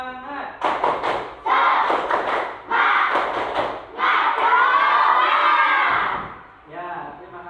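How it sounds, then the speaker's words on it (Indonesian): Classroom of students doing the tepuk semangat clapping chant, rhythmic bursts of claps mixed with loud group shouting in several phrases, ending with a final cheer. "Sebelum kita mulai pembelajaran, kita tepuk semangat dulu ya."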